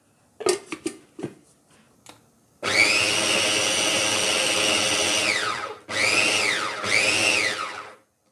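An electric chopper whirs through onion, tomato and green chili in three loud, steady motor bursts with short pauses between them, preceded by a few clicks and knocks as the lid and blade are set.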